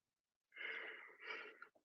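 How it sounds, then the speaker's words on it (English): A person yawns close up, a drawn-out breathy exhale in two swells lasting about a second, ending with a short catch of breath, during a live-streamed Q&A. "I did not mean to yawn"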